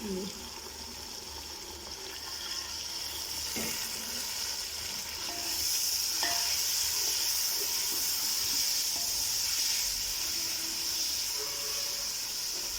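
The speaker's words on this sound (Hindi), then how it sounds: "कितने ज़बरदस्त मसाले फ्राई हो गए हैं" Turmeric, coriander, red chili, salt and black pepper fry with a splash of water in a pan, giving a continuous close sizzle and hiss that swells louder about halfway through, with occasional stirring clinks and no speech.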